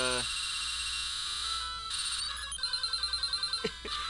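Bright, chiming Pokemon Red Rock Slide move effect with descending tonal steps, then a rapid series of rhythmic clattering hits like tumbling rocks, loud and close.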